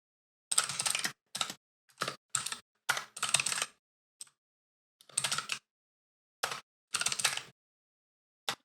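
Code typed on a computer keyboard in quick bursts of clicking keystrokes separated by short pauses, close and clear with no voices.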